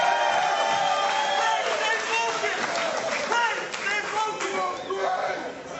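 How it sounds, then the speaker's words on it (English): A large crowd at a grappling match in Austin roars and cheers wildly, with clapping and shouts in a loud, sustained wash, while a commentator's voice runs over the noise. "And the crowd goes wild."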